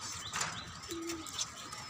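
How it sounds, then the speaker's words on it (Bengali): Pigeons and doves calling on a rooftop garden among flowering plants, with a short low coo standing out against bright chirps and a steady outdoor background. "এদিকে কবুতর আছে,"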